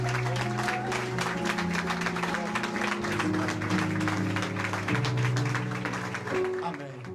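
A church congregation claps steadily in rhythm over sustained music with organ-like held tones, the dense applause continuing throughout at an even level.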